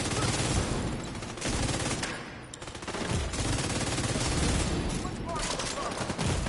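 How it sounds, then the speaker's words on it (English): Heavy crossfire in the video game The Division 2, with dense overlapping automatic gunfire bursts that stay loud and nearly continuous, briefly thinning before resuming, with voices underneath. "Holy crossfire, Batman."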